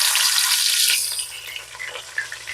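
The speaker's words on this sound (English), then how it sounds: "Try to fry them out" Large shrimp frying in a pan for a Caribbean fish dish, with a loud close sizzle that is strongest at first, then settles into softer crackles and spits.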